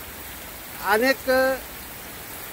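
Heavy rain pours down over a weekly village market in a constant broadband hiss. A voice briefly speaks over it midway.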